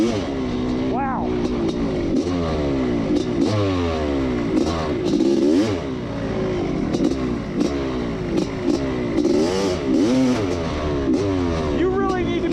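A worn Honda CR500 two-stroke motorcycle on a sand drag strip screams through repeated rising revs and gear changes, loud and close with a harsh rasp, while a voice talks over it.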